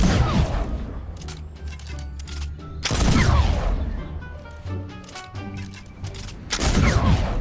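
Exotic flintlock pistol shots boom out in Fortnite, several sharp blasts a few seconds apart, loud and close, amid clattering game effects and a busy mix of sounds.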